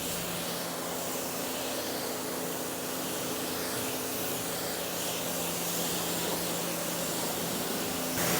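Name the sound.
rinsing a ceramic coated vehicle with water spray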